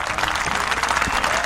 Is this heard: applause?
yes